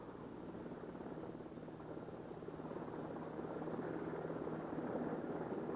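A UH-2 helicopter's rotor whirs in a continuous, dense drone that slowly grows louder as rotor RPM is brought up to full, with no voices present.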